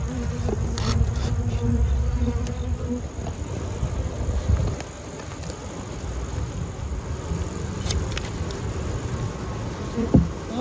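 Honey bees in a Mesopotamia hive hum in a dense, continuous buzz that stays close and loud throughout, with the intensity shifting slightly as the swarm moves.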